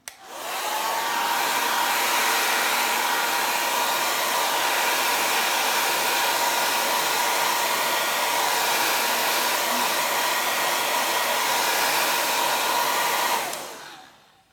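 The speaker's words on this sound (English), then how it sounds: "To speed up drying, all you need to do is just use your hair blower." A hair dryer roars steadily at close range for over ten seconds, a constant whirring hum that starts abruptly and stops at the end.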